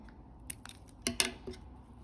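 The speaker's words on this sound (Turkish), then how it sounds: "İpimi buradan kesiyorum." Scissors snip through yarn while crocheting a beaded slipper motif, a few close, crisp clicks and cuts spread over two seconds in a quiet room.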